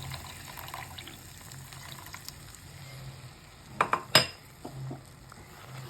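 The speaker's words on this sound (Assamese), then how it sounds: "মিক্সিৰ বাতিটো অখালি পেলাই পানীখিনি দিছোঁ মই।" Water is poured from a mixer jar softly into a cooking pan for a fish curry with tamarind and tomato, with a few sharp metallic clinks near the end over a low kitchen hum.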